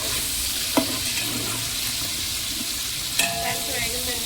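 Green peas for biryani fry in hot oil, a loud steady sizzle close by, with a few sharp knocks and scrapes of a spoon stirring them in the pan; no speech.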